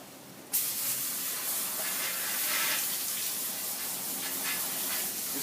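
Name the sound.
water spraying on filter sponges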